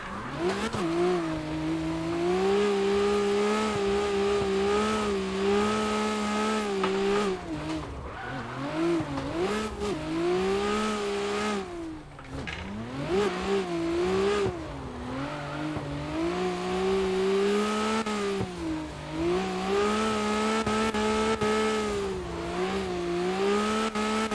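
Nissan R32 GT-R with a 750 whp RB26 engine revs hard while driving, loud and continuous, with the pitch rising through the gears and dipping on shifts, no talk over it.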